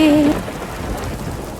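Heavy rain hisses steadily with a deep rumble of thunder underneath, while a brief sung note fades out at the start.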